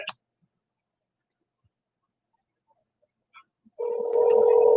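A telephone tone rings out steadily near the end, loud and continuous, after a mostly silent stretch with a few faint clicks.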